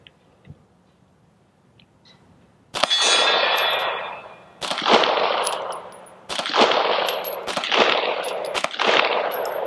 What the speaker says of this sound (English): shoot a control group as best that I can, 5 rounds